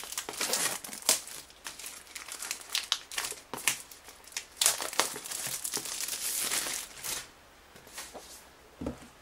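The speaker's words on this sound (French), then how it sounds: "On va enlever le plastique." Plastic shrink wrap is peeled and crumpled off an iPhone 5 box, making close, busy crinkling and tearing rustles in uneven bursts with brief pauses.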